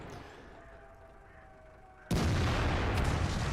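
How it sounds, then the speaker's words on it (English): A tank gun fires in World of Tanks, with an AMX tank shooting. A quiet, humming battlefield suddenly erupts into one loud, close blast whose heavy roar carries on to the end. "There's 2 shots out from the AMX."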